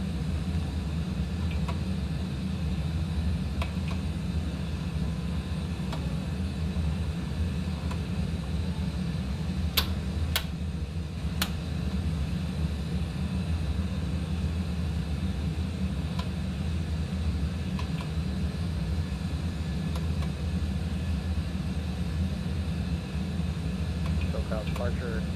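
An airliner climbing after takeoff in a flight simulator on a Los Angeles to San Francisco leg gives off a steady, low cabin drone with an even hum, while voices talk faintly over it.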